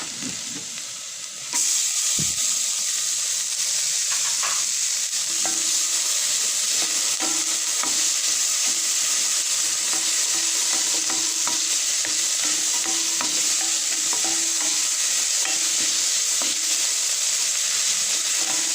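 Onions sautéing in butter in a pan, a strong steady sizzle that swells after a brief quieter start, with light stirring scrapes, close and uninterrupted.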